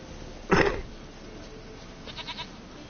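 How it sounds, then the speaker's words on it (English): A goat in The Witcher 3 video game lets out one loud, wavering bleat, followed by a few fainter bleating pulses a moment later over quiet game ambience. "They're gonna sacrifice this goat"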